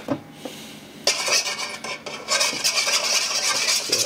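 Pizza dough being mixed in a bowl with a spoon standing in for a dough hook, giving close scraping and clinking of the spoon against the bowl, quiet at first and then steady and busy for several seconds.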